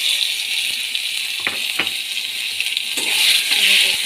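Mashed flat-bean paste goes into hot oil with nigella seeds and sizzles steadily up close, with a few light utensil clinks, the hiss swelling louder near the end.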